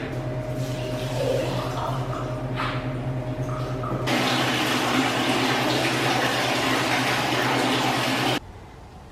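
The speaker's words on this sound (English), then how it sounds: "Then we can drain our water jacket." Water drains from a dairy vat's water jacket in a steady hiss and gush beneath a low machine hum, swelling louder midway and then stopping abruptly near the end.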